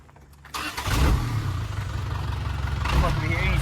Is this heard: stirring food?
no